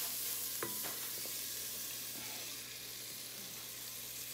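Garlic, onion and ginger sauté in a pan for arroz caldo with a faint, even sizzle. A spoon knocks against the pan a couple of times early on, then the sound settles to a quiet hiss.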